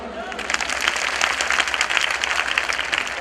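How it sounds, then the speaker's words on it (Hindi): An audience at a Sai bhajan evening in Amroha claps steadily and fairly loudly in a dense, sustained round of applause. "फिर बजाओ ताली।"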